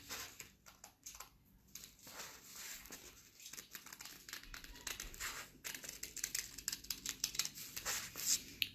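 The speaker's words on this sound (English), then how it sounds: "So I'm actually going to cut all 4 trees together" Scissors snip and paper crinkles while four paper tree cutouts, stacked together for an Earth Day craft, are cut around their outlines in a steady run of close, crisp cuts.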